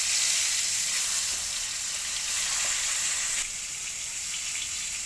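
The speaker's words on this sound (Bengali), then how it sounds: "কড়া গরম হয়ে গেছে, কড়াইটা ছেড়ে দেবো এক এক করে" Pointed gourd coated in turmeric and salt sizzles in a hot wok, a steady, close bright hiss with small crackles that swells briefly as pieces go in.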